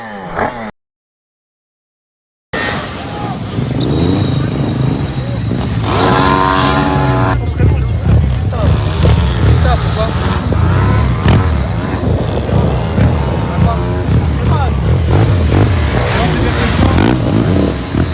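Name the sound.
Yamaha 450 YZF supermoto motorcycle engine revving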